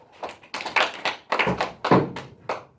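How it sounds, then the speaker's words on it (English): Classroom students clap in a loose, uneven pattern of sharp hand claps, several distinct bursts spread across the moment rather than a tidy double clap, close and fairly loud in a small room. "clap twice if you agree with Cadence"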